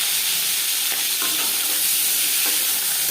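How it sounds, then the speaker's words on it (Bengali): Shing fish fries in three spoons of hot mustard oil, a loud, dense, unbroken hiss and crackle heard up close with a few faint stirring bumps. "জ্যান্ত মাছ আমি একটু হালকা করেই ভেজে নেব"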